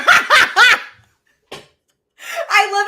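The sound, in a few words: dog barking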